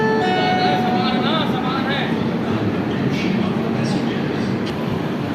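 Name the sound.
train arriving at Raipur Junction station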